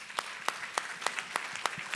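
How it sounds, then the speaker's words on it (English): An audience applauds a partnerships panel at a Golden Jubilee weekend conference, though only a few sharp, evenly spaced claps come through, close and fairly quiet. "I want to let's applaud them and thank them"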